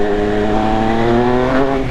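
A Triumph Speed Triple 1200 RS engine runs at low RPM with a loud, close, steady droning growl that shifts slightly in pitch over a couple of seconds.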